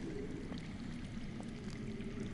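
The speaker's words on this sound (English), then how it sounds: "That's water. I hear water. From underground." Underground running water in the Game of Thrones Telltale video game, a steady low rushing and pouring wash that holds evenly throughout at moderate loudness, with no voices.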